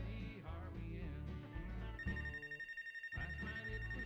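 A telephone rings in Life Is Strange: True Colors, a bright repeating electronic tone that enters partway through and pulses over low, steady game music.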